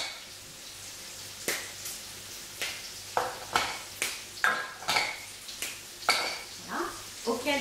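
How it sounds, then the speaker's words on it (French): Squares of dark chocolate dropped one by one into a saucepan, giving a run of sharp clinks and knocks that speed up into a quick, irregular rattle, close by and with no voice. "150 g de chocolat noir qu'on va casser dans une casserole"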